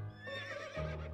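A single horse whinny in the video game To The Moon, close and clear, rising and wavering for about a second with no talking.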